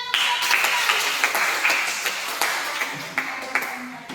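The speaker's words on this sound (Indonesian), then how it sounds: "Tepuk tangan." A classroom audience claps after a group's performance, a steady patter of many hands with a few sharper claps standing out, fairly close and alone.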